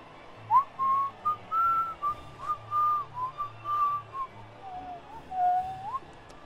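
A person whistles a melody as a clear line of sustained, slightly wavering notes, close and fairly loud, with a low hum in the background.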